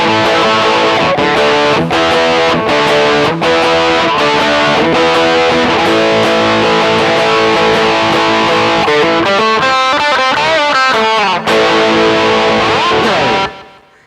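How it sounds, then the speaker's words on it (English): Guitar played through a distortion effect, loud chugging chords and sustained crunchy notes with a busy stretch of rapid riffing before ringing out and cutting off at the end. "Let's see how distorted this is."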